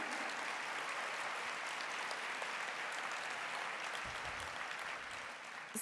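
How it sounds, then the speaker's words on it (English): A general assembly audience in a large hall claps continuously, a full, even wash of applause that holds steady from start to finish. "So let's have a round of applause for them."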